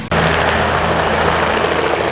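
Sightseeing tour helicopters in Orlando produce a loud, steady rotor and engine roar that starts abruptly and holds constant nearby.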